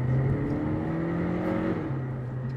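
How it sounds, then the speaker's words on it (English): A 2019 VW Golf R-Line with a 1.5 TSI engine revs hard in sports mode, a loud, steady in-cabin engine drone that climbs in pitch before easing off near the end, with no talking. "If you put your foot down in fully auto in sports mode, it will rev the tits off it"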